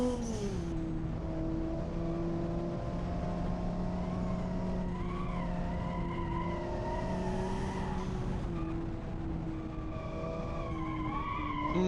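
Steady engine drone with tire squeal from a car turning and skidding in the BeamNG driving simulator, the whine rising and falling in pitch over a continuous noisy rumble, with no speech.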